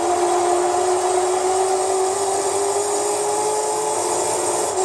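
Panoz Esperante GTR-1 race car engine in Gran Turismo 3, revving high with a steady, sustained whine that holds a fairly constant pitch and stays loud throughout.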